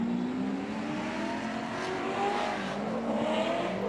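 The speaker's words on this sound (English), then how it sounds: "A lot of limiter from the Miata." A Mazda Miata drift car at a street drift event sits on its rev limiter, giving a loud, continuous, buzzing engine drone that stutters slightly and holds steady throughout, with no talking.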